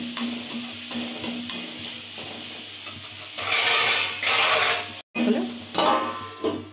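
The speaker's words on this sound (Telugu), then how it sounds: "ఇలా కలుపుకోవాలి. ఒక 2 నిమిషాలు కలుపుకొని" Bottle gourd curry is stirred in a pan with a steady scraping, sizzling rhythm that swells into louder, hissing bursts midway, then briefly drops out before the stirring resumes.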